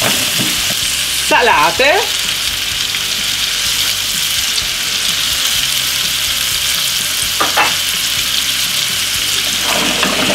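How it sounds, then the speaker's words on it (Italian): Frozen prawns sizzle loudly and steadily in hot garlic-flavoured oil in a pan, with a few brief bursts of stirring or clatter; a voice says a word once near the start. "appena l'olio comincia leggermente a prendere calore, versate dentro le mazzancolle ancora surgelate."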